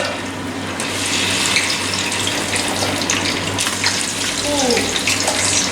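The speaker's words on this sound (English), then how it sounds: "Yeah, that's a good sizzle." Chicken fries in a pan with a loud, dense, continuous sizzle like hissing spray, crackling steadily throughout at close range.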